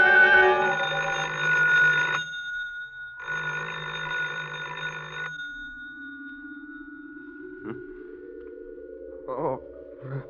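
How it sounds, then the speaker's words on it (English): An old-fashioned telephone bell rings in two long bursts, a steady electric trill loud and near, followed by quieter indistinct sounds and a short rising tone, all in a dramatic radio scene. "I thought I heard the phone."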